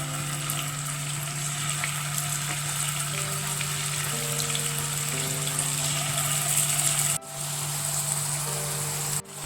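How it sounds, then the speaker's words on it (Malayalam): Prawns fry in hot oil in a pan, giving a steady, close, continuous sizzle with a low hum underneath and a brief dip near the end, and no one speaks. "ചൂടായ എണ്ണയിലേക്ക് ചെമ്മീൻ ചേർത്ത് വറുത്തെടുക്കാം."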